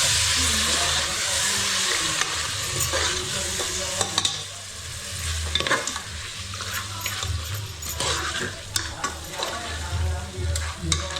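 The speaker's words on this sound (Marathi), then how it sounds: "मटण टाकलं आता तेलावर" Mutton frying in oil in a pan, a close sizzle that is loudest at the start and settles lower, with scraping stirs and sharp clicks scattered through it and no talking.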